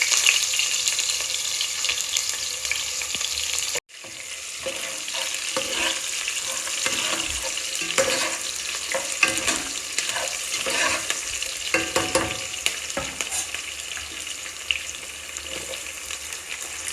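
Chopped onions frying and being stirred in hot oil for a chicken biryani, a steady bright sizzle with scraping spoon strokes, continuous after a brief break near the start, with no talk.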